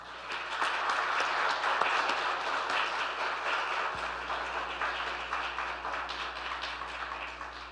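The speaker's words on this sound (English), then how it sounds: "Let us give them a round of applause." Steady applause from a crowd honoring veterans and active duty service members at a church wreath laying ceremony, sustained and even throughout, many hands clapping in a room with no pause.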